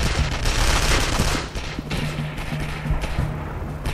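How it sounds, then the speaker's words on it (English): Enemy gunfire in the Sniper: Art of Victory video game rattles in steady, dense automatic volleys aimed at the player, loud and continuous with a slight easing midway. "Where am I getting fired at from?"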